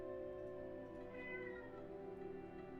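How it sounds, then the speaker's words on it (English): Pet cat giving one drawn-out, wavering meow, fairly close and moderately soft against a quiet room. "Sorry, that's my cat."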